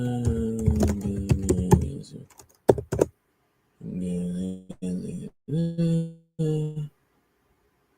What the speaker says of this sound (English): as you hear me typing here